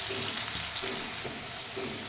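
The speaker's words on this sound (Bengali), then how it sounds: "এই আলুগুলো ভেজে নেব" Potatoes fry in hot oil for a dhaba-style chicken curry, a close, steady sizzle with a few faint stirring scrapes.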